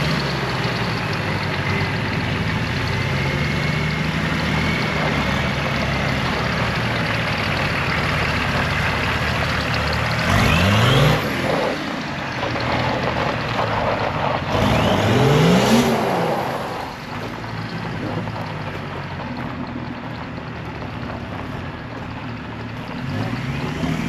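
A large homemade motorized prototype vehicle drives with its engine running steadily and a wheel slipping, a continuous loud mechanical whir and roar with two brief surges in revving midway.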